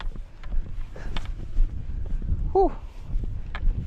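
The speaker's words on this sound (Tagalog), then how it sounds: "Medyo malakas ang hangin, guys, ah." Strong wind buffets the microphone in low, rumbling gusts during a fishing trip, with a brief squeaky creak partway through and faint voices underneath.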